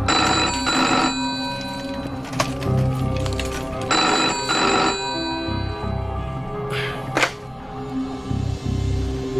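A telephone rings in loud, repeated bell bursts, each trill lasting about a second with short pauses between, close and clear against a quiet room.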